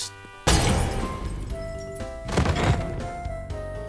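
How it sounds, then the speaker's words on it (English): A wine bottle smashes over a man's head in the One Piece live-action series: a sharp crash, then a roomy ringing tail and a second crash-like burst in the scene's mix with music tones. "it's a wine bottle smashed over his head."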